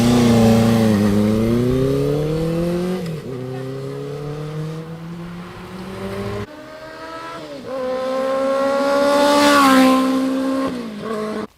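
A restored, tuned 1973 Honda CB350F Super Sport four-cylinder motorcycle engine revving up and down in smooth rising and falling sweeps, loud and close, with brief dips between throttle blips and no talk over it.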